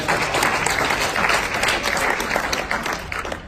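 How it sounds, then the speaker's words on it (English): A meetup crowd on Joint Venture Agreements gives returning attendees a big round of applause, loud and sustained dense clapping that tapers slightly near the end. "Let's give those guys an even bigger round of applause"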